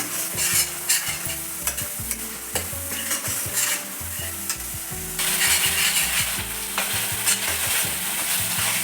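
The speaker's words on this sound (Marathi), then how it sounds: "आपल्याला मसाला छान परतून घ्यायचा" Masala being stir-fried for a spicy Maharashtrian mutton curry, with steady loud sizzling and a regular rhythm of spoon scrapes and clanks against the pan, growing busier partway through.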